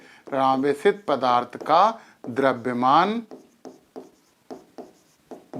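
Writing on a board in a physics lesson on electrostatics: someone speaks for about three seconds, then short scratchy strokes follow one after another in an irregular rhythm, close and fairly quiet.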